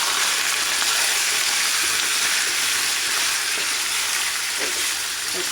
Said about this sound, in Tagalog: So, fry lang muna natin.